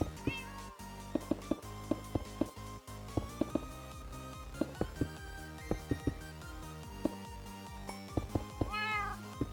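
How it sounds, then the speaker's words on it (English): A house cat meows repeatedly over steady background music from a Minecraft game, with short, clear cries scattered irregularly throughout at moderate volume and a few rising, drawn-out calls near the end. "Good kitty"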